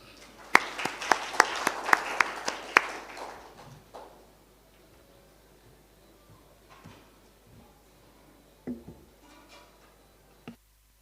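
At a road transport conclave, a small burst of clapping rings out with a few sharp, distinct claps at first, then fades within about four seconds into quiet room tone with occasional soft knocks.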